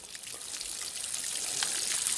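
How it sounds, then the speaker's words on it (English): Water from a garden hose rushes through flush muffs clamped onto a boat's outboard engine, a steady hissing spray and trickle that grows slightly louder, with no voices. "Stuart's now just about to turn the hose on to get the water flow through the"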